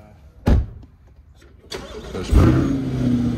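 A 2021 Corvette convertible starts up: a sharp click, then the starter cranks and the engine catches with a loud rev before settling into a rumbling idle, close by.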